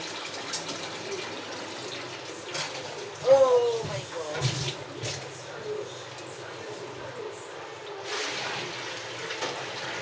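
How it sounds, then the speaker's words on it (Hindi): Water is poured into the tank of an air cooler, giving a soft, low splashing and filling sound with a brief louder gush. A person talks over parts of it. "अब आलस आ गया मुझे, तो मैं अब भर दूँ कूलर वापस।"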